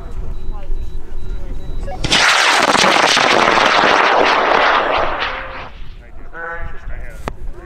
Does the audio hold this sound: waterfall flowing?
no